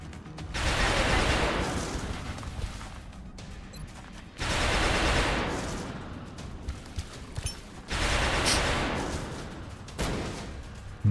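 In the video game XCOM Long War, a flashbang goes off and gunfire follows in three long, dense bursts of rattling shots, each running a few seconds with short gaps between.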